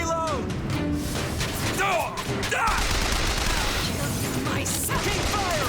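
Rapid gunfire from the BioShock Infinite video game crackles in dense bursts with thuds and crashes, mixed with game noise and shouted voices throughout.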